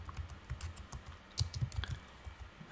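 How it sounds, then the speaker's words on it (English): Steady, quiet clicking of keys typed on a computer keyboard at a desk, a short run of keystrokes with a few sharper taps, close and alone with no talking. "I'm going to type iplug IPlug effect"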